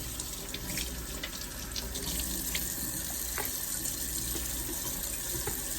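Pieces of liver rinsed under a running kitchen tap, a continuous close splashing stream of water into a sink with small shifts in flow, no talking.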